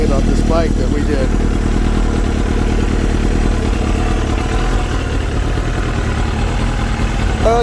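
A Kawasaki ZX7R fitted with a 6 Sigma jetting kit idles steadily after a cold start, a close, loud, even motorcycle engine rumble while someone talks over it.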